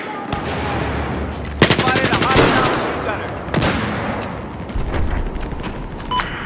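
Machine gun fire in Battlefield 4, sustained rapid bursts with heavy booming impacts in a loud chaotic gunfight, sounding close and dense with scattered effects mixed in.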